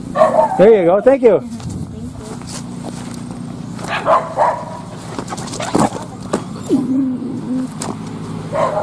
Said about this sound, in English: That dog come right between my legs.